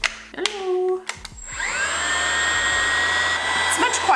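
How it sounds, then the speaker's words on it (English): A newly bought electric power sander switches on and settles into a steady, loud whir that runs continuously for several seconds. Brief voiced sounds come just before it starts. "So I had to buy a sander."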